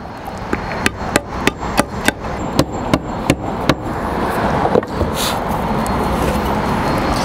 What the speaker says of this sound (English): you can just use your hammer